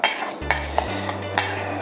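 Avocado salad with a splash of Tabasco tossed in a bowl, a few light utensil clinks and taps against the bowl over a low steady hum, close and moderately loud.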